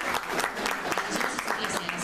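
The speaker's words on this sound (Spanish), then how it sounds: "vamos a darle un aplauso y vamos a recibirlo al doctor" An audience at a talk on serial killer stories claps to welcome the doctor and author to the stage, a brief, dense burst of applause that fills the room at close range.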